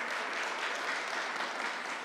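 An audience applauding at a New York State government announcement on gun violence, a steady, dense wash of clapping that holds evenly for about two seconds.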